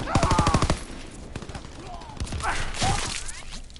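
Rapid automatic gunfire in a video game, a loud close burst of evenly spaced shots followed by scattered single shots and more firing, with a voice shouting over the battle.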